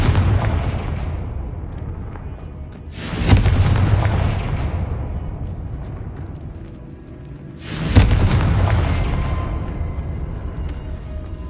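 Confringo fire spells exploding in the Hogwarts Legacy video game: two loud booming blasts about five seconds apart, each swelling suddenly and then rumbling away slowly over steady game ambience.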